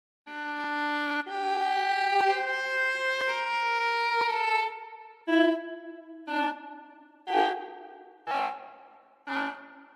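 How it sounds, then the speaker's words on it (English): Granular effects from a sampler instrument's sampling mode: a sustained, bright synthetic tone gives way to a string of five short, stuttering bursts of grainy pitched sound, each separated by brief gaps, with no talking. "Now if we use this, we can get some nice granular effects."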